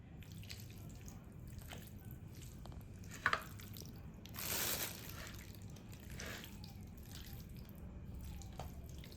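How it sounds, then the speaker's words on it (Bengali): Raw chicken being mixed by hand with salt and marinade makes soft, quiet wet squelches and occasional drips close by, with one brief clatter and a short rush of noise midway, and no talking. "এবার মাখছি, এগুলো সব মেখে ম্যারিনেট করে রেখে দিচ্ছি।"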